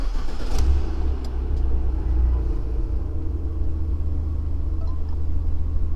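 A 2019 Abarth 595 Pista 70th Anniversary running in sport mode gives a loud, steady, close engine rumble, with a brief rev near the start and then a sustained idle-like drone.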